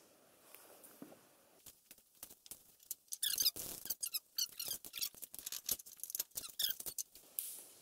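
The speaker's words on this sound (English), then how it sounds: "So I'll put a ratchet strap on there real quick, put a little tension on it," Ratchet strap being tightened on a 1969 Ford F100 during a lowering kit install, giving a series of quick, repeated clicking squeaks in short bursts, fairly close and alone without talk.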